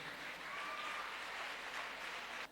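Audience clapping at a large public event in Etawah, a fairly quiet, even patter of many hands lasting a couple of seconds with no voices over it.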